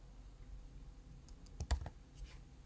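Light typing on a computer keyboard, a handful of soft key clicks clustered in the middle over quiet room noise.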